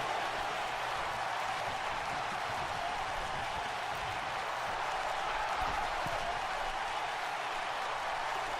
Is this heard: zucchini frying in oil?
no